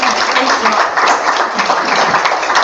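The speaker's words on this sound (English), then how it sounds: "So give them a round of applause." Loud, dense applause from the audience at a school board of education meeting, a continuous close rush of many hands clapping throughout.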